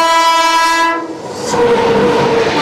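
A passenger train near Bardhaman station in West Bengal sounds a long, loud horn close by, then rumbles and rattles along the track as it rounds a curve.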